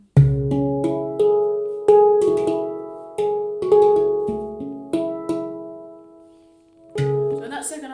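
Handpan playing a slow cover, struck notes ringing and decaying in a melodic phrase with pauses between groups, close and clear, with no voices.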